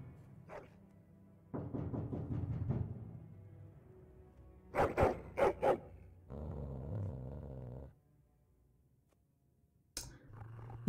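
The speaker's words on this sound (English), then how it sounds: "He stares at the door and growls." A dog in the video game Dragon Age: Origins growls at a door, low rumbling bursts of growl alternating with sharper barks and pauses, near and moderately loud, with no speech.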